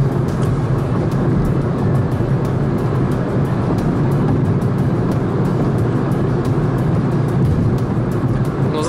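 A 2015 Kia Rio drives on the road with its engine held at higher revs, a loud, continuous cabin hum and road roar that stays steady throughout.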